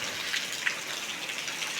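Monsoon rain falls in Rajapur, Konkan, easing slightly after a heavier spell. It makes a soft, even hiss with a few faint droplet patters, steady throughout and without voices.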